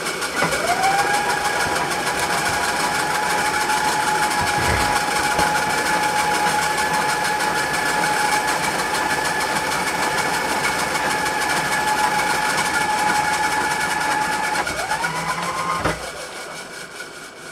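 A powered drill runs continuously at a steady high whine for about fifteen seconds drilling a hole in metal, briefly changing pitch near the end before winding down.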